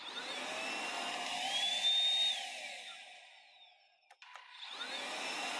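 A Proscenic P8 Max handheld cordless vacuum cleaner whirs with a loud steady motor whine that rises slightly, winds down to near silence, clicks, then spins back up to full speed, with no voices.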